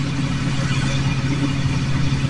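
A truck engine revs outdoors in a backyard with a steady loud rumbling drone, close and continuous, with no talking over it.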